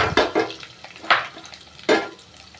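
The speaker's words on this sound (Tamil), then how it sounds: "நல்லா வதக்கிக்கிறலாங்க. வெங்காயம் வதங்கி வரட்டுங்க." Onion, garlic and curry leaves sautéed in a pan for a sundakkai kuzhambu, with a few distinct stirring scrapes and clinks over a faint frying hiss, close by and fairly quiet.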